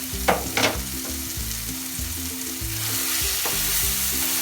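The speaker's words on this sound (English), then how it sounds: "It's been half an hour, my tomato pachadi is cooking" Tomato thokku (pachadi) cooks steadily in oil, giving a continuous close sizzle and bubbling with a few sharper spattering pops near the start.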